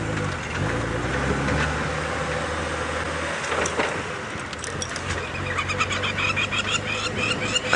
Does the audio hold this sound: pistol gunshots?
no